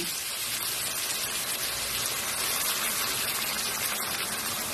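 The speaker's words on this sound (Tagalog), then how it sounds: "Mag-add tayo dito ng tubig." Warm water pours into a cooking pot for ginataang sayote with a steady, even hiss of splashing that runs the whole time without talk.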